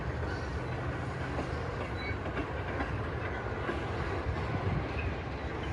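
A long Canadian National freight train rolls steadily past, a dense continuous rumble with faint clattering of wheels on rails, loud and near with no voices.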